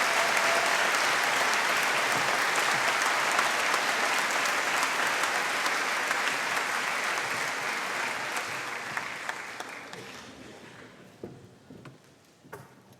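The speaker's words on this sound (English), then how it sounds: "give a round of applause for the small group there" Sustained audience applause, loud and dense at first, then thinning out and fading into scattered claps toward the end.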